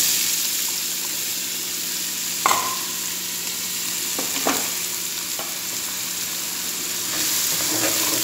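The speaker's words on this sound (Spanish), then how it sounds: "Vamos a dejar ahí que se dore la cebolla con el ajo." Onion and garlic fry in oil in a skillet with a continuous, close sizzle, broken by a few clinks of a utensil against the pan.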